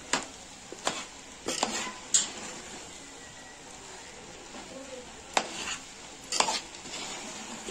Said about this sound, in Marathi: असे सर्व भाजी आणि राईस आपण आता मिक्स करून घेतलेला आहे.